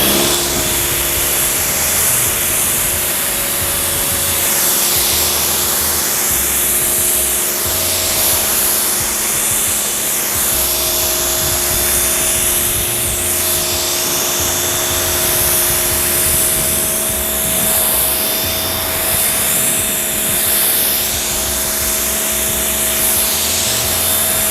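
A steady, loud water spray rinses Adams Mega Foam soap off a vehicle's panels, a continuous hiss with shifting sweeps as the jet moves across the surface, with no talking.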